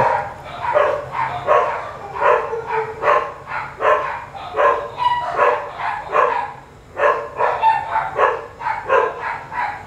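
Repeated dog barking from the Stone Age Begins mobile game, a steady run of sharp barks and yips at a fairly even rhythm for about ten seconds, loud and close with no talk over it.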